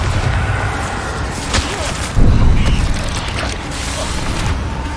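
A Bombarda blasting spell explodes in Hogwarts Legacy, a loud burst with creaking, crackling debris over a dense noisy combat backdrop, a brief sharp hit just before the main blast.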